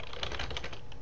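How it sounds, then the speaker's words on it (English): Rapid, uneven typing on a computer keyboard during a terminal session, a dense run of close clicking keystrokes for just over a second, with no speech. "So I'm just going to pound the keyboard"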